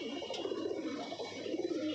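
A pigeon coos softly and low nearby, a murmuring, rolling call that carries on through the short moment.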